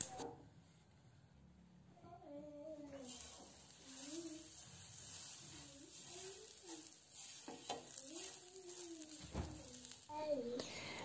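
Bread roll cooking in a buttered frying pan over medium heat, a soft steady sizzle running underneath, with a higher voice-like hissing tone rising and falling at intervals.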